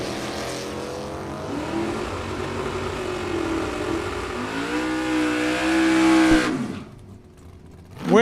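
Two drag racing cars, a 1978 Chevrolet Camaro and a 1969 Chevrolet Camaro, launch together at a Super Pro bracket race, engines roaring loud and rising for about six seconds before cutting off abruptly into quieter background noise.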